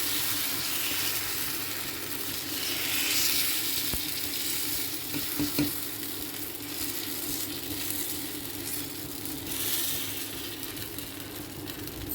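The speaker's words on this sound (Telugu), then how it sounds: "ఇలా అట్టంతా మన స్పూన్ తోటి రుద్దుకున్నామండి" Oats dosa batter sizzles steadily on a hot pan as a spoon spreads it, a continuous close frying hiss with faint scraping touches.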